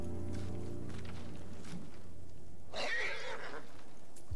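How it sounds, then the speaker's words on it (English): A black horse in the video game Ghost of Tsushima gives a short neigh about midway, preceded by a low steady hum with faint noises; moderately loud and close, with no talk. "This is a black horse."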